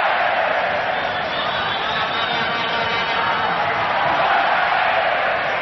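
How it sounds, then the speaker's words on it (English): A football stadium crowd at a Denmark versus Uruguay match roars steadily through a long passing move, a dense, continuous wash of cheering that stays loud and even throughout with no break. "And the crowd revelling in this one."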